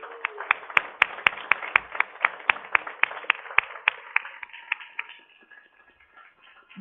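Applause for students at a school board meeting: a few pairs of hands clapping in a sharp, regular rhythm, fairly close in a quiet room, then tapering off into light shuffling.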